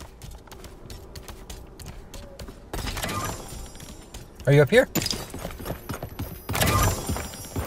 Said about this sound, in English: There's a horse coming.